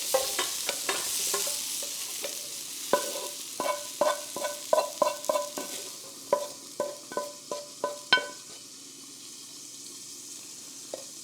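Cooked broccoli is scooped from a hot pan into a bowl for beef and broccoli, giving a run of quick metal-on-pan scrapes and clinks over a faint sizzle, close up and without talk.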